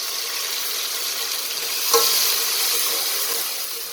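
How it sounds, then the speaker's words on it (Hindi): Green chili and garlic paste frying with onions in oil for chicken mandi, a dense, steady sizzle close up with a brief stirring clink near the middle and no talking. "हरी मिर्चों और लहसुन में उसको अच्छा सा भूनेंगे"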